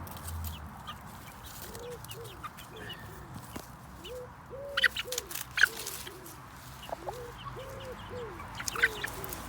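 A mother hen clucking softly and repeatedly in a low, regular rhythm while she and her 70-day-old chicks search for bugs outdoors, with faint higher chirps and peeps scattered above and a quiet background.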